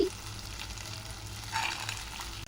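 Chana dal and mint frying in a pan over medium flame for a red chutney, a soft continuous sizzle close by with a brief stir near the end, no talk.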